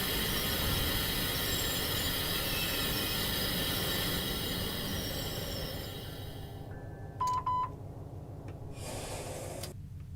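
A BNSF freight train hauling loaded steel coils in the Run 8 train simulator rumbles steadily and loudly, its dense engine and rolling noise continuing throughout before dropping somewhat, with a short tonal squeal or horn-like note near the end.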